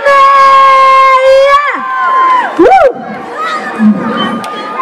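A crowd in the city of Yuzhny, gathered for a television shoot, shouts and cheers together in loud, rising bursts. The chanting swells and dips over several seconds.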